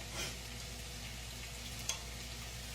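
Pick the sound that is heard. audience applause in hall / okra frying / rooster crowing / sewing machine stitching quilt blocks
okra frying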